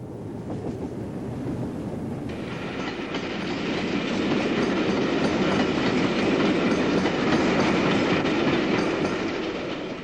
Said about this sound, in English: To the north of the station, an Eastern Region train is seen.